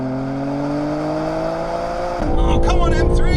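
An Audi RS5 and a BMW M3 launch in a drag race: steady engine tones climb in pitch, then a sudden louder surge of roaring, rising revs takes over as the cars pull hard.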